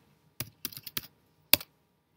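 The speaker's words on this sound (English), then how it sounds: "Type it in, press Enter." Short burst of typing on a computer keyboard, a quick run of four or five key clicks followed by one louder, decisive keystroke like pressing Enter, close and isolated.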